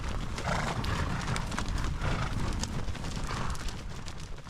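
A herd of horses on an Old West horse drive makes a dense, continuous rumble of hooves, loud and close, with no clear individual steps.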